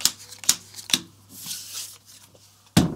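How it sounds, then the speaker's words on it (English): Aventuria card game cards are shuffled with a few sharp riffle snaps and slides, then a soft rustling stretch and a final thump, close up with no voices. "Then we take the alarm card and shuffle it in."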